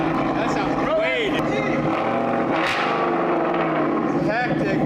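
A 2015 Ford Mustang GT engine runs and revs with its newly fitted exhaust, giving a rough, throaty rumble with rising and falling pitch, while people talk over it.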